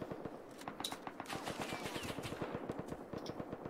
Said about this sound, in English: There's someone shooting over here.